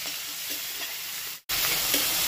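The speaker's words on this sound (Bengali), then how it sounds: "আর একটু দিচ্ছি টমেটো, একটু অল্প, হাফ টমেটো। এটা একটু ভেজে নিই" Half a tomato frying in a pan, a dense, steady hiss of sizzling oil that cuts out for a moment and then resumes at the same level, close and loud.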